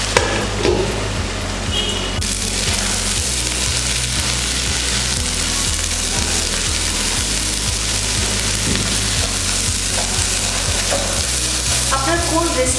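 Mutton frying in a pot for biryani with cardamom and salt, loud steady sizzling throughout and repeated rhythmic scraping and knocking of a spoon as it is stirred close up.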